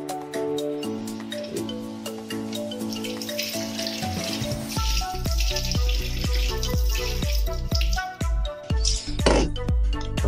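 Frozen chicken is placed into a sink of water as the tap runs, a steady gushing stream with splashes and clinks, close and fairly loud, with no voices.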